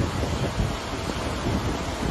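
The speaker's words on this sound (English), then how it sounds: "How the wind is sending the water" Wind gusting over water with waves breaking against rock in the heat of the day, a continuous loud roaring wash with rumbling surges and microphone buffeting, no voices.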